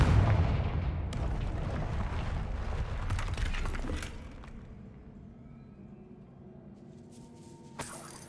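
A Confringo fire spell blast in the Hogwarts Legacy video game, a loud rumbling explosion with crackling debris that roars for several seconds then decays into a quieter tail, ending with a sharp brief hit.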